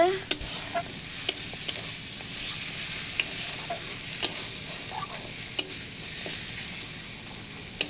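Spice masala fries in oil with a constant crackling sizzle, while a spoon stirs and taps against the pan at irregular intervals, close and clear without talk.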